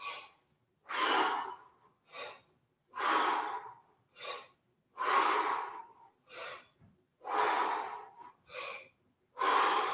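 Rhythmic breathing during breath squat exercises: strong, close inhales and exhales alternate in a steady repeating pattern, about ten cycles, with no talk.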